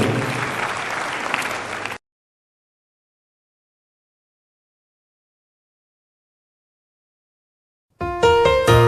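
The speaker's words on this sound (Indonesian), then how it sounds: "Yang percaya tepuk tangannya paling meriah buat Tuhan" Congregation clapping during a church sermon, a dense burst of applause for about two seconds that cuts off abruptly into silence, followed near the end by loud music.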